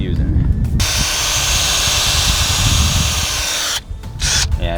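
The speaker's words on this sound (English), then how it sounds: "So yeah, so you can just start screwing in." Power drill driving exterior multi-purpose screws into a homemade kayak rack: one long, loud whirring run of about three seconds, with brief drill bursts before and after.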